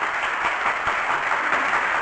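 Dense, steady applause from an audience welcoming guest Demond Wilson at an interview, a continuous wash of many hands clapping with no voices standing out.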